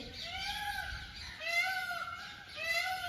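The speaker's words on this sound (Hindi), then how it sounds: "जैसे कई बार ये मोर बोल रही है" A peacock gives three loud, drawn-out wailing calls in a row, each rising then falling, with no voices alongside.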